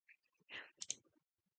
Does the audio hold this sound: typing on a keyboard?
yes